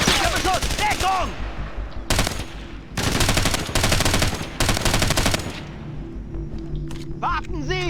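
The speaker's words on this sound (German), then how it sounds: "Feindlicher Beschuss." Heavy bursts of automatic gunfire from enemy troops in the tactical shooter Ghost Recon Advanced Warfighter, rattling in loud repeated volleys with short gaps, while voices shout over the combat.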